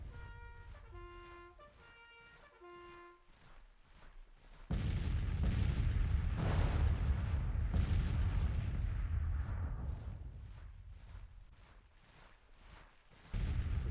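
Artillery guns fire in Grand Tactician, a Civil War strategy game: after a short musical phrase, a loud sustained rumble of booming cannon volleys rolls for several seconds, fades, then a fresh blast hits at the end.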